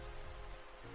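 Rain falls steadily in a video game scene, a soft, even, continuous patter at low volume with no voices.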